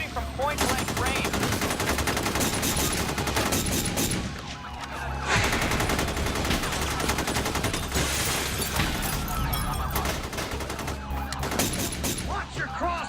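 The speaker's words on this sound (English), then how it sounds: "Shots are firing everywhere." SWAT officers firing weapons in a shootout, rapid bursts of gunfire crackling near and loud in dense volleys, with a brief lull midway and shouting voices mixed in.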